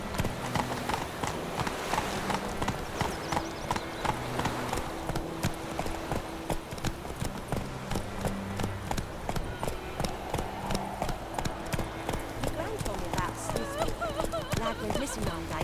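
Rhythmic hoofbeats of Roach the horse trotting in The Witcher 3, a steady clip-clop under game music and voices talking throughout.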